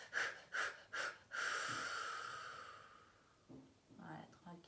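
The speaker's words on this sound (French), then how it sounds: "J'inspire" A person breathes deeply through a gentle wellness exercise, with a few short breaths followed by one long, drawn-out inhale, close and clear, then softer breathy sounds afterward.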